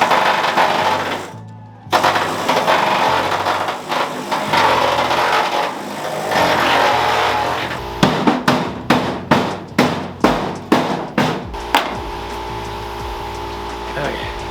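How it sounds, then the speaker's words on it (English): Pneumatic air hammer pounding on a car's wheelhouse during a 4-link suspension install: a run of loud, sharp repeated bursts, about ten in quick succession, following a stretch of rumbling shop noise and clatter. "That air hammer trick does work really well, I will admit that."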